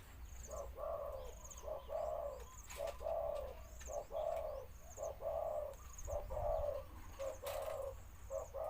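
A spotted dove coos repeatedly in a steady rhythmic pattern, soft and fairly close, with faint chirps from other birds in the background.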